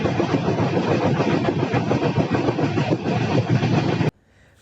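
Passenger train running on rails from Muzaffarpur to Ranchi, a loud steady rumble with rattling clatter of wheels on track that cuts off abruptly near the end, leaving near silence.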